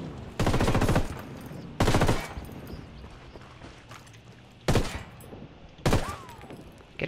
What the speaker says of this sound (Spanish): Disparando al enemigo.